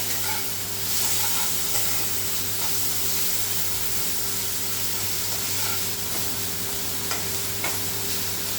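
Ginger and garlic stirred and fried in a pan for chicken curry, a steady soft sizzle and hiss with light stirring scrapes, a low hum underneath and no voices.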